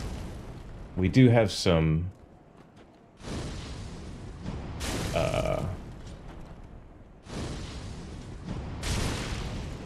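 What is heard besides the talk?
fireball explosions in the video game Dark Souls 3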